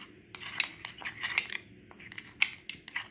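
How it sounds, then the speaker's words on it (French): Spoon clinking against a bowl while gelatin is stirred with a little water for a mirror-glaze cake, a run of light irregular metallic taps and scrapes, close and quiet, with no talking. "je prends notre gélatine, je mélange avec un peu d'eau"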